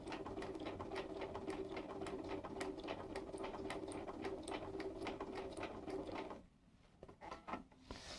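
Bernina 440 sewing machine running fast while stitching curves, a steady rapid mechanical whir with needle ticking that cuts off near the end, leaving quiet handling noises.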